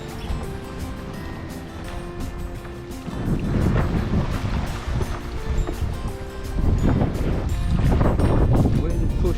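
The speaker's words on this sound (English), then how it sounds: "Wow, where's the wind coming from, man?" Strong wind gusts buffeting a small boat while paddling near the Galapagos Islands, a steady roar that swells loudly in surges, with wind noise hitting the microphone and water sounds mixed in.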